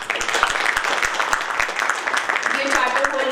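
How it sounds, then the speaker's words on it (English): A room full of people at an award ceremony applauds in a dense, continuous clatter of clapping, with voices faintly mixed in beneath it. "May I first request a big round of applause for all the CFA charter holders"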